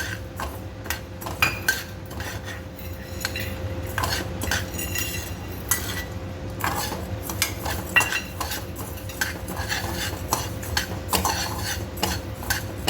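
Dabeli masala being stirred and roasted in a pan, a utensil scraping and clinking against the metal steadily over a low background hum, with faint sizzling and no talking.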